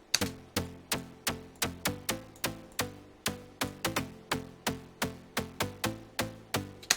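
A punchy, clicky progressive trance synth pluck, built in Ableton's Analog synth, plays in a tight, quick rhythm of short repeated notes with sharp attacks and fast decays.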